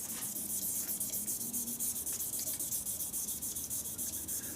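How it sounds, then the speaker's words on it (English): A turned wooden shaving brush handle is sanded by hand with steady, rhythmic rasping strokes, fast and even throughout. The sound is faint and close, and no one speaks over it. "I'm still sanding this brush, still sanding this brush away"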